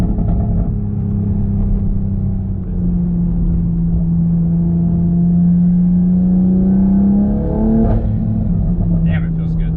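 A Toyota Supra with a transmission tune accelerates hard as the gearbox kicks down, a steady loud engine drone climbing in pitch with a brief shift near the end, and voices talk over it inside the cabin.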